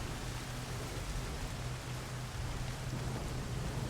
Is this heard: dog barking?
no